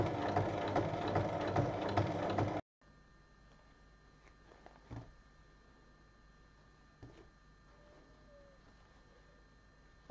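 A sewing machine stitches a seam on a fabric basket, running fast and close for about two and a half seconds before stopping abruptly, followed by a quiet room with faint clicks.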